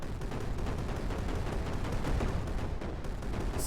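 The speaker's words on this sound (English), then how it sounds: "Okay, so this is an anti-air cannon." An anti-air cannon with alternating barrels fires in the video game Brick Rigs, a dense, continuous rattle of rapid shots at steady loudness with no pause, alone without talk.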